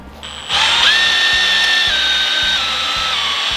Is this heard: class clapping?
no